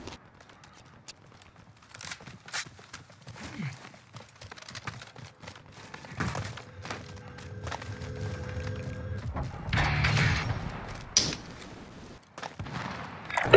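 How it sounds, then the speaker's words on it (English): Scattered gunshots in the Call of Duty video game, sharp isolated cracks and a few short bursts at moderate distance, mixed with footsteps and background game noise, growing busier toward the end. "Somebody shooting."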